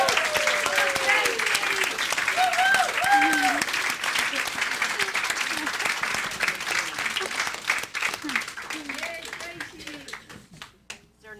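Warm audience applause and clapping at a church service carries on with voices and cheers mixed in, then gradually thins out toward scattered claps near the end.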